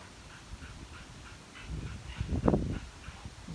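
Off in the background, a dog named Samara whimpers and cries in soft, repeated whines, faint and a bit distant, mixed with louder nearby thumps and movement.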